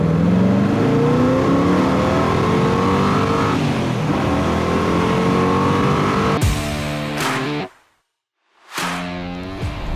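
A 1975 Chevrolet Corvette convertible's engine revs loudly and up close, its pitch climbing and falling through repeated throttle blips before cutting to silence and then revving briefly again.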